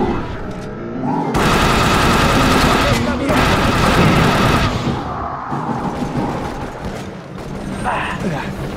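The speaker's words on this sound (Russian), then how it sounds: "По мне стреляют!" Rapid gunfire and explosive bursts from the shooter video game The Bureau, loud dense volleys in two long stretches with a brief gap, then quieter scattered shots and combat noise.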